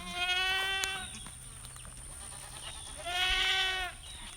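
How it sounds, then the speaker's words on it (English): Goats on a farm bleat in two loud, drawn-out calls near the listener, one at the start and another about three seconds later, with quieter background between. "the goats are saying, hurry up"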